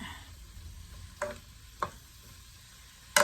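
A Japanese vegetable stir fry with broccoli sizzles softly in a pan, with three sharp scrapes or clacks of stirring breaking a quiet, continuous fry.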